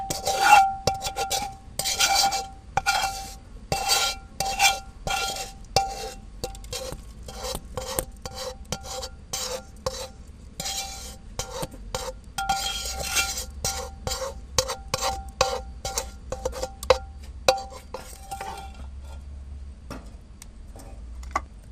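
Roasted dried chilies frying in oil in a pan for Thai khanom jeen nam prik, a spoon scraping and clicking steadily against the metal in quick repeated strokes over a soft sizzle, with no talking.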